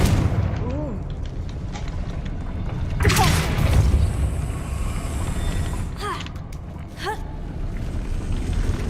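Booming blasts from the Confringo fire spell in the video game Hogwarts Legacy, a sharp explosion around the middle followed by two shorter impacts, heard over steady game background sound.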